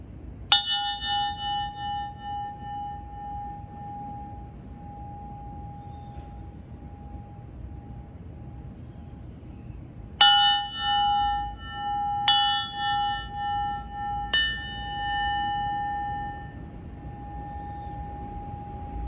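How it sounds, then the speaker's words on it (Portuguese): Small meditation bell struck once and left ringing a long while, then struck three more times at even intervals of about two seconds, each tone clear and sustained over faint hiss. "vamos bater esse sininho"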